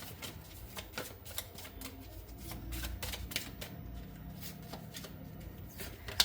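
Tarot cards are shuffled and drawn from a deck in a close, quiet series of soft riffling and flicking sounds with small taps.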